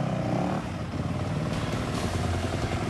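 A motocross motorcycle engine roars at a CNIR MX race at Sugas, Sfântu Gheorghe, a loud, continuous revving drone with shifting pitch.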